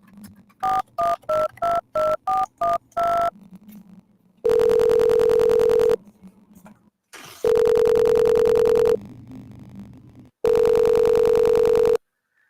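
A telephone being dialed: a quick run of about eight touch-tone DTMF beeps, then three long, loud steady ringing tones separated by short gaps, clear and close with no talking.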